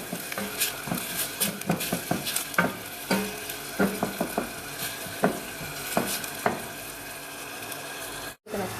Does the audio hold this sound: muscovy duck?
no